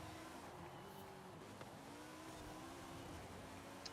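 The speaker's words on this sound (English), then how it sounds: "I hear your engines going." Car engines roar steadily in the racing video game Forza Horizon 5, a continuous drone of several racing cars at high revs with shifting pitch and no speech over it.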